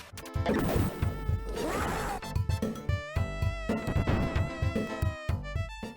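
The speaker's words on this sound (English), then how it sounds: "When Shinobi pops his ninjutsu, you get this." Chaotic Sega CD Shinobi game sound effects as the ninja uses his ninjutsu magic: a burst of crashing noise, then a flurry of rapid sharp hits and electronic blips over driving background music.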